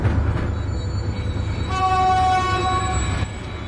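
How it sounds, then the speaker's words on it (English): A train rumbles loudly along the tracks while its horn blasts a long sustained chord near the middle, then cuts off, leaving the heavy rolling noise. "A train was coming behind."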